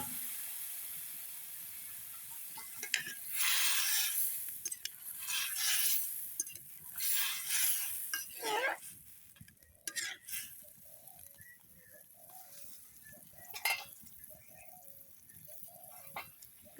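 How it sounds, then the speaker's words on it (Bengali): Curry poured into a pan after frying fish, in a home kitchen. A hissing, sizzling rush comes in bursts, and quieter cooking sounds and faint clatter follow. "এখন তরকারিটা ঢেলে দিয়ে দিবে।"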